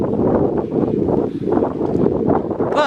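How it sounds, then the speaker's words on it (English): Strong wind blows across a fishing pier on a gray day, a steady, loud, rumbling roar buffeting the microphone throughout, with no voices. "But very gray, very windy"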